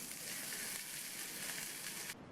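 A hot tempering of curry leaves, asafoetida powder and a cut dried chilli, being added to a mint chutney, gives a soft, even hissing sizzle that runs steadily and then cuts off abruptly near the end.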